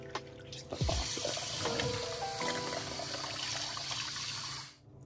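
A sink faucet runs steadily, water pouring into the basin for a Golden Retriever puppy's bath, with a soft continuous splash, a few small knocks early on, then the flow cuts off just before the end.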